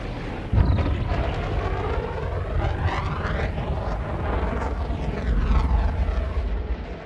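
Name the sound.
spaceship boost in video game Elite Dangerous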